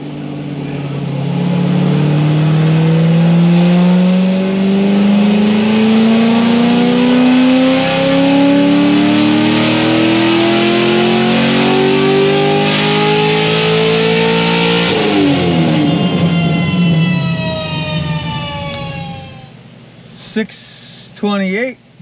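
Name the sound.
stage 4 Corvette Z06 engine revving with straight pipes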